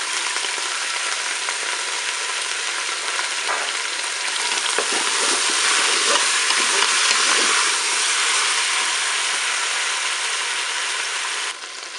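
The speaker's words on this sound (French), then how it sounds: "Je vais ajouter les morceaux d'échalote et l'ail." Onions, shallots and garlic frying in a Cookeo multicooker on its browning setting, a steady close sizzle and crackle with light stirring and scraping, no voices.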